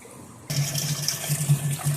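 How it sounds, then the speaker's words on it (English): Water rushes through a solenoid valve into a tank in an NE555-based water level controller, starting abruptly after a short quiet moment and then running as a steady, fairly close gush with a low hum underneath. "this solenoid valve will allow the water in it"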